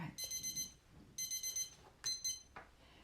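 An alarm-style timer beeps in rapid bursts of four tones, repeating in groups with short pauses, fairly faint indoors while clay pieces sit under a resin curing light, no talking.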